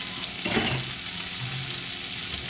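Sausage fries in a little olive oil in a hot pan, giving a steady, close sizzle. A brief scrape or stir comes near the start, then the even frying continues on its own without talk.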